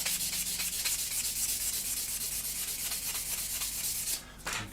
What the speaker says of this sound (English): in with the sanding sponges.